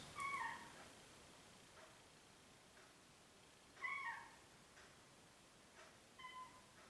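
A cat meows for food indoors, three short, fairly faint cries spaced a few seconds apart with quiet between them.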